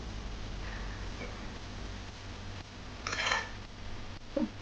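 A kadai is set down on the stove for tempering in a quiet kitchen: a short metallic scrape and clatter, then a small knock a moment later, with no voices.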